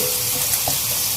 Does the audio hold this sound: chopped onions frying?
yes